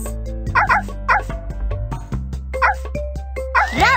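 Cartoon puppies yip and bark in short bright bursts over a children's animated adventure soundtrack of music, several quick barks spaced across the moment.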